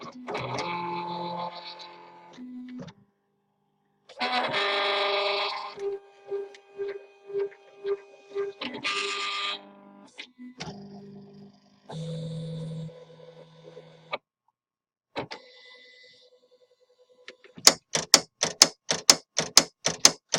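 A Silhouette Cameo cutting machine working on plain cardstock, with whirring motor runs, tonal beeping pulses and pauses, ending in a quick series of sharp rhythmic ticks, close and fairly quiet.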